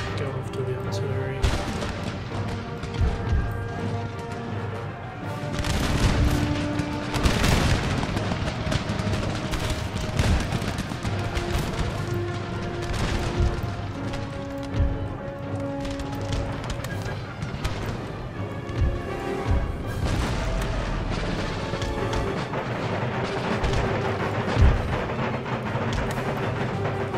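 Artillery fire in Empire: Total War, a Thirteen Colonies campaign battle: repeated booming cannon volleys and scattered shots over a busy battle din, with someone talking throughout.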